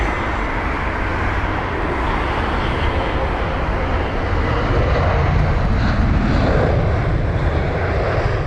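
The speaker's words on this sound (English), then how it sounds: "Just watching the United 787 as it taxis on over to runway 27 left" A United Boeing 787 jet taxiing toward runway 27 left at London Heathrow, heard as a steady, broad engine roar that holds level throughout with no talking.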